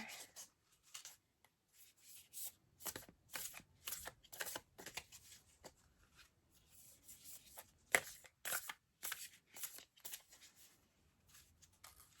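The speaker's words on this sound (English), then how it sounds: "this deck is taking a long time to shuffle" Tarot cards riffled and shuffled by hand, a long run of crisp rustling bursts with short pauses, close and fairly quiet, with no talking.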